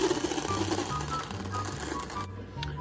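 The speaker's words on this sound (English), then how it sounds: "I'm happy that the motor turns over" A Marx 333 toy locomotive motor running: a rough, buzzing electric whir with rattling, rhythmic mechanical chatter, close and fairly loud for a couple of seconds before cutting off.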